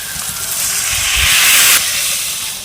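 Water poured onto fried spice paste of tomato and spices for a fish curry bursts into a loud, close hiss of steam that swells for a second or so, then drops back to a softer sizzle.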